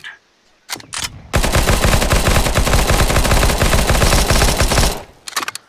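Counter-Strike: Global Offensive gunfire, a few sharp single shots followed by a long, loud, unbroken automatic burst lasting several seconds, then more scattered shots at the end.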